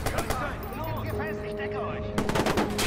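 Gunfire in the video game Watch Dogs: dense, rapid automatic bursts crackle continuously over game music and effects, with a renewed loud volley near the end.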